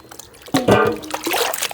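Mangoes being washed by hand in a basin of water in a home kitchen, with splashing and trickling in two bursts over a quiet background, close and moderately loud.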